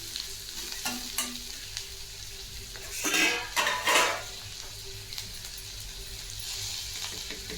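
A spoon stirring roasted peanut powder into a green bean curry in a pan, a soft continuous sizzle with scraping strokes and a few sharper clinks against the metal, louder in a brief burst midway.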